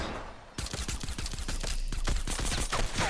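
Rapid automatic gunfire in a Fortnite battle royale match, a sustained burst of evenly spaced sharp shots fired close by, continuing unbroken for several seconds after a brief quieter lead-in.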